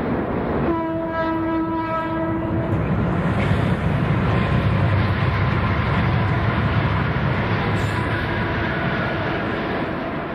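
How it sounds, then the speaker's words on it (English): A westbound mail train crossing the Delaware River bridge at Easton, Pennsylvania, with a loud continuous rumble of cars rolling past and a long sustained horn blast near the start, no voices. "One last train in the area is at Easton, Pennsylvania, with a mail train crossing the Delaware River heading west."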